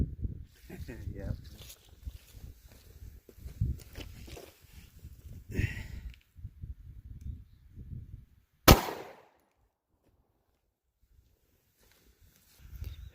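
A Sig V-Crown 9mm pistol firing 115-grain JHP rounds into ballistic gel lets off one sharp, loud crack, preceded by muffled talking and followed by near silence.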